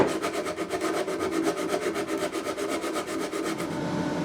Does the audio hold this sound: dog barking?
no